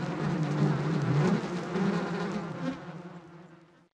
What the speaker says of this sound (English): it's not as easy to get away from killer bees.